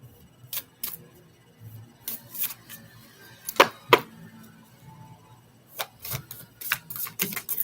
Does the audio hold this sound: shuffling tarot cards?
yes